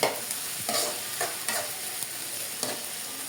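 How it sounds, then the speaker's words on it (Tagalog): Tofu sautés for tofu sisig with onion and chili, giving a steady close sizzle broken by several sharp spatula scrapes and taps against the pan, with no talking. "Igisa na yung tofu"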